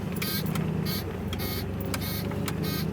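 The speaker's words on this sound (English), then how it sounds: "That's the most annoying blinking sound I've ever heard." Turn signal blinker on an Acura RSX clicking in a steady repeating rhythm, each click carrying a sharp high tick, heard inside the car over a constant low engine and road rumble.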